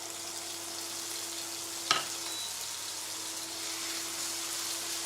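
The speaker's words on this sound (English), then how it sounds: "you need a hot pan, okay, to seal the chicken, okay? So you should hear a sizzle." Constant, hissing sizzle of chicken frying in a hot pan, steady throughout with a single brief clack partway through.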